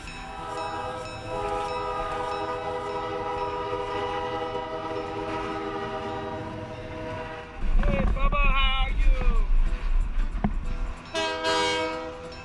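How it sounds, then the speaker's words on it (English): A train rumbles along steadily, then a loud whistle blows in several wavering blasts over the heavy rolling noise, close by. "Some people maybe can't stand that much train whistles"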